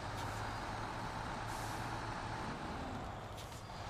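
A truck brakes in SnowRunner with a steady loud engine rumble and hissing air-brake bursts. The sound runs continuously and close by, with no talk.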